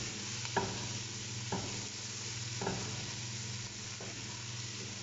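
Garlic sautés in hot oil in a pan for a hotdog pasta, a close, even sizzle with a few soft stirring scrapes breaking through every second or so.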